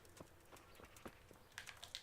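A horse's hooves clip-clop in the video game Kingdom Come Deliverance, a quick uneven run of soft thuds with a few sharper knocks near the end, faint and distant.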